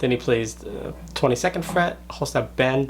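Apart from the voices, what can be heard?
No distinct noise like a dog, phone or traffic.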